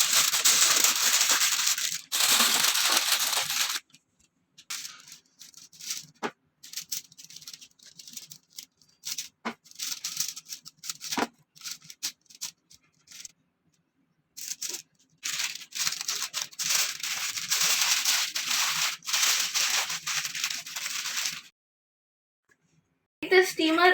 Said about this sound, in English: Wrap the fish in the foil.